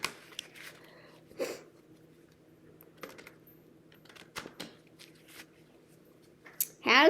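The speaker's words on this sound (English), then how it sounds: "let's go ahead and shuffle these up" Soft, intermittent shuffling and riffling of tarot cards in a quiet room, with scattered light taps and a brief louder rustle at the end.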